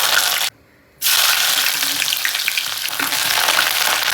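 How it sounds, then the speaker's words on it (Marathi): Curry leaves hit hot oil for tempering a prawn curry, setting off a loud, close, crackling sizzle that cuts out briefly, then resumes and hisses steadily. "कढीपत्ता टाकूया सगळ्यात अगोदर।"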